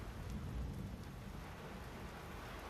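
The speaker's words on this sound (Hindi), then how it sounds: "इस वक्त जोरदार बारिश राजधानी में हो रही है" Heavy rain pours steadily in the capital during a thunderstorm, a dense, even wash of rainfall with a low rumbling thunder underneath, heard without talk.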